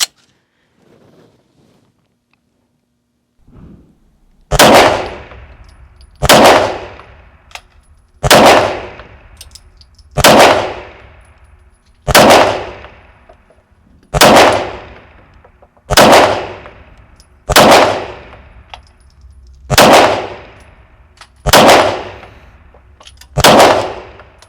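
A Bul SAS II TAC pistol fires eleven loud, sharp shots at a steady, unhurried pace, each crack followed by a short ringing decay, with a quiet pause before the first round.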